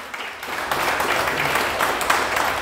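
Audience applause after a conference presentation in Paris, a steady wash of clapping from a gathered crowd that swells shortly after starting and holds for a couple of seconds.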